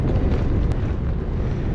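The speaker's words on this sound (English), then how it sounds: "Really windy right now on the way to Villandry" Strong wind roaring and buffeting a microphone while cycling along the Loire in France, a continuous heavy rumble with no voices.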